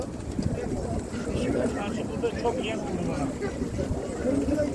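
Crowded bird market ambience at Edirnekapı, Istanbul: cooing pigeons and scattered bird calls mixed with busy background chatter and bustle.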